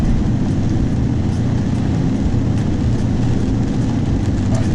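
A diesel truck with a freshly overhauled 68RFE automatic transmission rumbles loudly and steadily from inside the cab, a dense low drone of engine and road noise with no distinct breaks and no speech.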